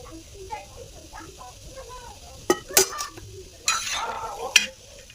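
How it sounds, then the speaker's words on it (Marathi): Onion and coconut roasting in a little oil on a hot tawa, with soft sizzling and stirring scrapes, a few sharp clinks of a utensil against the pan, and a person talking throughout. "तव्यामध्ये आपल्याला कांदा आणि खोबरं चांगलं भाजून घ्यायचं आहे"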